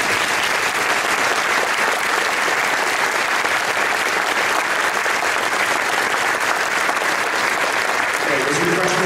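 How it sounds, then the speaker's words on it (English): A room full of parents and guests gives students a sustained round of applause at a school event, dense, loud and unbroken clapping lasting several seconds, with a voice beginning to speak over it near the end. "we're going to give you one more round of applause for all your hard work"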